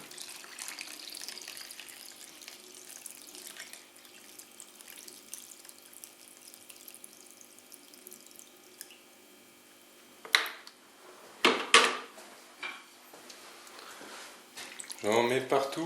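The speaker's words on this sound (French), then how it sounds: "on va verser donc cette eau à nouveau" Water is poured and splashed in a kitchen while making homemade natural laundry detergent, quiet trickling at first, then a few louder sloshing bursts toward the end.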